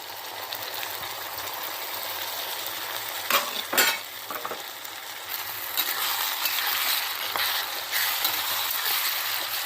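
Onion with ginger-garlic paste fries steadily in a pan, a continuous broad sizzle with a few louder scraping stirs near the middle, close and alone.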